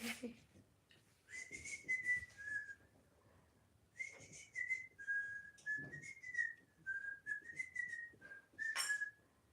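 Someone whistles a meandering tune close by, in phrases with short pauses between them, clear and fairly quiet.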